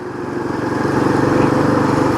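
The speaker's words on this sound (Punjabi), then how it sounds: "ਪੰਜ ਜਾਣੇ ਮੋਟਰਸਾਈਕਲ 5 ਸੀਟਰ ਗੱਡੀ ਬਣਾਈ ਜਾਂਦੇ ਆ" A motorcycle carrying five riders on a mountain road in Uttarakhand, its engine droning loud and close with a steady, slightly rising throb and no talk over it.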